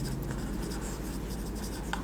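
Writing on a board during a physics lesson, a soft continuous scratching with faint taps, close and steady for about two seconds, with no speech over it.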